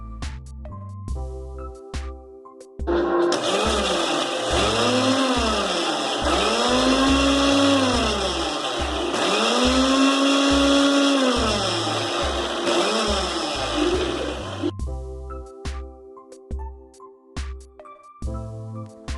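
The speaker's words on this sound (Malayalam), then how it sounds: "ഈ മുട്ട ഒന്ന് മിക്സിയിൽ നന്നായി അടിച്ചെടുക്കാം." A mixer grinder blends eggs with salt for homemade mayonnaise, giving a loud, steady motor whir and churning that runs for about twelve seconds, with music before and after.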